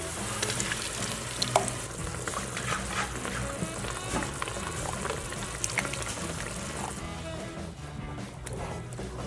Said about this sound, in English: I'm gonna go in there with 1 whole beer and deglaze it